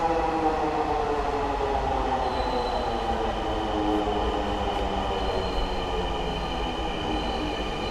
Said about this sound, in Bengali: আমাদের মেট্রো রেল চলে এসেছে, আমরা দেখতে পাচ্ছি মেট্রো রেল অনেক কাছে চলে এসেছে।